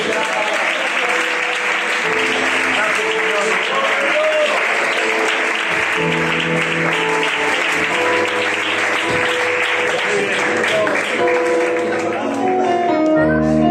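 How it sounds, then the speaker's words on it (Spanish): Church congregation clapping for the Lord during a service, sustained applause mixed with organ or keyboard chords and some voices, loud and continuous for over ten seconds. "Los que quieran ser atalayas pueden dar un aplauso al Señor."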